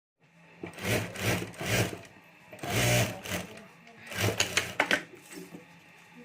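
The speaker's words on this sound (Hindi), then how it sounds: "तो यहाँ ऊपर मैं सिलाई कर देता हूँ।" A sewing machine stitches a lining strip onto a fabric pencil pouch in several short bursts of rapid clattering, close up, with brief pauses between runs.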